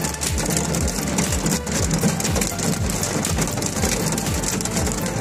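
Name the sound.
heavy rain and hail falling in Riyadh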